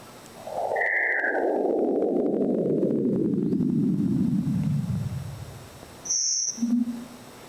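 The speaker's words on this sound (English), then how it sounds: "So the stars appear as almost like birds chirping." A sonified astronomical image renders stars as short, bird-like chirps and tones scattered around a long, falling whoosh, each note brief and clean, with no talking.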